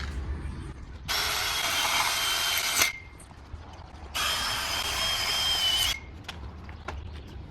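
A hole saw bores into pipe in two loud sustained bursts of grinding, whining cutting, each about two seconds long, separated by a quieter pause with small clicks and taps afterward.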